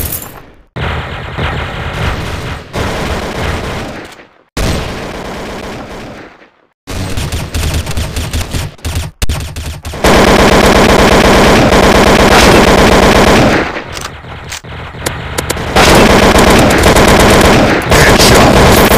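Rapid automatic AK47 assault rifle fire in a Special Ops video game at a library map, loud, sustained bursts broken by brief pauses, dense and continuous toward the end, with no talk.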